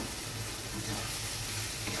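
Spice masala with chilli powder is stirred and fried in a pan for a cauliflower and keema dish, making a continuous close sizzle with soft stirring scrapes and no talking.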